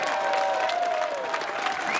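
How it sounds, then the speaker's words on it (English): Applause and crowd noise from a street rally audience at a men's march, a steady wash of clapping heard outdoors with a sustained tonal hum running underneath, continuous for the whole stretch. "A big round of applause for Jim!"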